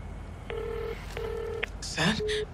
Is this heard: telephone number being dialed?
yes